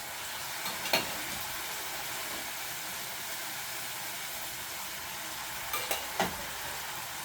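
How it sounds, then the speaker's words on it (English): Food sizzling in a pan with olive oil while couscous is being cooked, a steady soft frying hiss with a few brief spoon clinks and stirring scrapes, fairly quiet and free of talk. "I'm gonna bring down the heat a little bit now, because that sizzle was where I wanted it"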